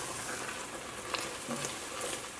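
Flour dish sizzling and frying in a pan as it is stirred, a constant dense hiss with faint scraping from the spoon, close and steady with no talk.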